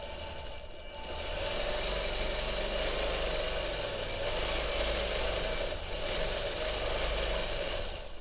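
A quilting sewing machine stitches a free-hand feather motif in a feathered heart wreath, a steady close motor whir running nearly the whole time after a brief quieter start.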